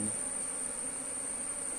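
Bees swarm around a beehive in the rainy season, a steady close buzzing hum that holds evenly throughout.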